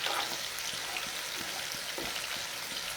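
Jackfruit masala (kathal masala) frying in a pan on a high flame gives a soft, continuous sizzle with faint crackling pops, heard alone and fairly quiet.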